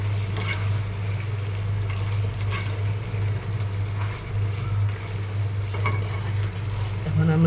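Beef braised in a pot is stirred, with soft scraping and sizzling over a constant low hum, a steady close kitchen texture lasting several seconds.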